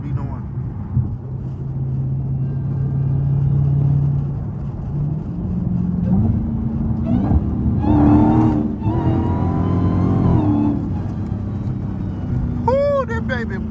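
Stolen Dodge Hellcat engine pulling hard under acceleration, a loud sustained rumble that climbs in pitch through the gears, with people talking over it inside the car.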